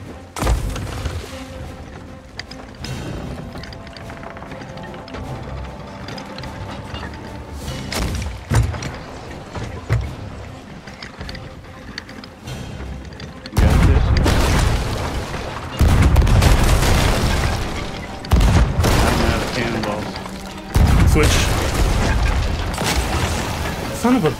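Heavy booming cannon blasts from a pirate ship in a video game go off repeatedly in bursts, loud and close, with voices talking over parts of the stretch.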